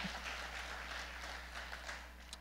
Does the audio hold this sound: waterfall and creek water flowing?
no